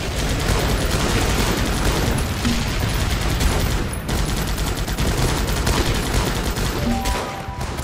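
Dense, continuous bombardment gunfire in the war game Guns Up!, with rapid overlapping shots and explosions forming a loud, unbroken barrage for the whole stretch.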